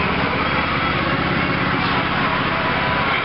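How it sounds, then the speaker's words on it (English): A snow blower that recently needed fuel line and belt work runs close and loud, its engine droning steadily and evenly throughout with no pauses. "Just a snow blower"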